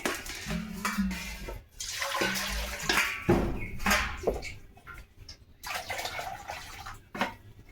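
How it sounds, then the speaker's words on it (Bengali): Water poured into a cooking pot in a home kitchen, an uneven splashing gush that comes in several short bursts with brief quiet gaps between them. "তো হাঁড়িতে জল আর একটু দিতে হবে"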